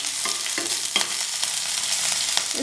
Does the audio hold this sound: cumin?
yes